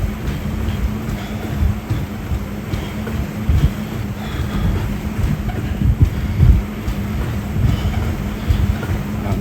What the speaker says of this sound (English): I'm driving home on a motorbike.